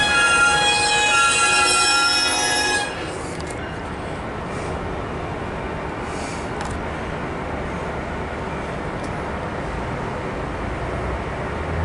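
A CSX double stack intermodal freight train passes close by with a steady rolling roar, a high wheel squeal dominating the opening seconds before fading into a continuous rumble, no talking.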